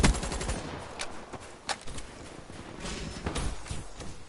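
Rapid hip-fired gunfire from Call of Duty: Black Ops 3 rattles in scattered bursts, with sharp cracks punctuating a busy background of game noise.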